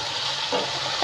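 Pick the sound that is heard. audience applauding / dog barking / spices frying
spices frying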